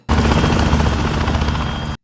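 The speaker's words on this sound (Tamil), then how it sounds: "அங்கே ஒரு ஹெலிகாப்டர் வருது." Helicopter approaching in an animated action scene, a loud, steady rotor and engine roar with dense low-frequency chopping that holds constant throughout.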